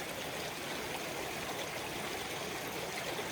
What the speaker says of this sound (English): I'm trying to get out of this Arthur River.